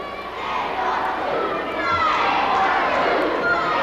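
A wrestling arena crowd roars and shouts steadily throughout, a dense wash of cheering voices with children's cries mixed in, loud and continuous.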